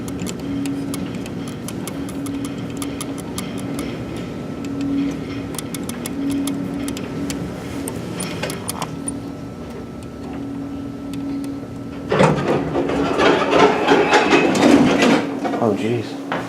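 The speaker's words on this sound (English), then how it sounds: "It's just your basic service elevator." A Dover traction service elevator runs in a Fort Lee, New Jersey office building, giving a steady low mechanical hum with intermittent clicks and rattles, then louder clattering and rumbling near the end.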